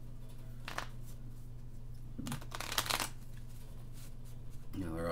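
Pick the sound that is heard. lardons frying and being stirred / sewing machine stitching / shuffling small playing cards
shuffling small playing cards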